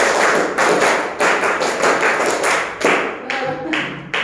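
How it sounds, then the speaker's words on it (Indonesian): A classroom of students claps together in counted groups of one, three, five and four. The sharp, loud, close bursts come in quick rhythmic clusters separated by brief pauses, with no talking. "tepuk 1, tepuk 3, tepuk 5, tepuk 4 2 kali"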